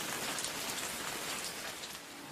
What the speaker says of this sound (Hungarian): Órák óta ömlik az eső